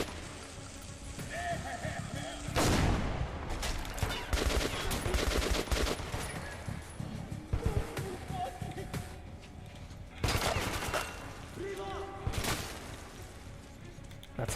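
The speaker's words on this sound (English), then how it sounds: "it's a gunfight now" Gunfire rings out in a Metro 2033 Redux gunfight, with bursts of shots and sharp cracks between quieter stretches, set over game ambience and a background voice.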